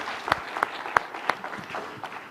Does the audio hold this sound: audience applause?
yes